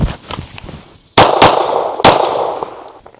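Gunshots ring out during a timed shooting drill: two loud, sharp reports about a second apart, each with a ringing tail, following quieter handling and clicking noises.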